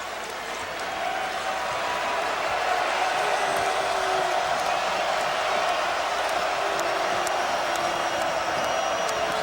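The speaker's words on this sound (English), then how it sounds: "There hadn't been much reason for the home fans to cheer until that moment." Home fans at a Carolina vs Mississippi State basketball game roar after a dunk, and the crowd noise rises quickly into sustained cheering and applause across the arena.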